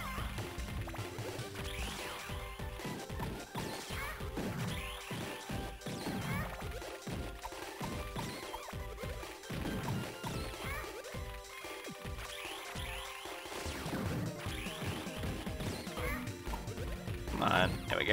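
Repeated punch impacts from the Game Boy Advance game Astro Boy: Omega Factor, a steady run of sharp smacks and crashes in quick succession layered with busy game music and effects throughout.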